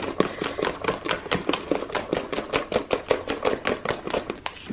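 A spoon beats through a thick, icing-like homemade whitening cream in a bowl, giving a steady run of quick scraping taps at close range.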